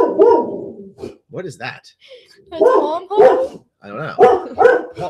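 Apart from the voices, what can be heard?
dog barking in the house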